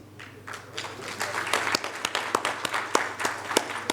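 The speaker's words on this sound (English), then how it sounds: "Please welcome them with big round of applause" Applause builds gradually from a summit inaugural ceremony audience, with a few sharp, distinct claps standing out over a steady patter of hands.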